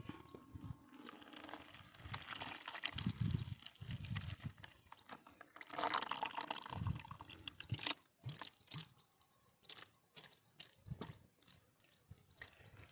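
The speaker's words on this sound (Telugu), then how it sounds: "దీన్ని ఒక బకెట్లోకి తీసుకొని దీన్ని కలుపుతున్నాను చూడండి ఇది ఒక బకెట్లో పోస్తున్నాను చూడండి" Oberon pesticide for a paddy field being poured into a bucket and mixed, giving a soft liquid splashing and trickling stream, then scattered drips and taps toward the end, close and fairly quiet.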